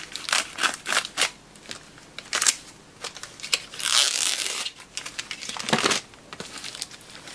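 A knife slices open a mailbag parcel, giving close, scratchy cutting strokes, crinkling plastic and crisp rustling of packaging in short irregular bursts, with no talking.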